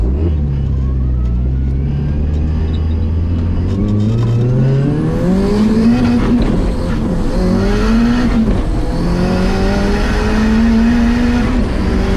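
A loud car making about 430 wheel horsepower, with no angle kit, accelerates hard on a public street, its engine close and roaring through rising rev sweeps and upshifts, with faint tire noise underneath.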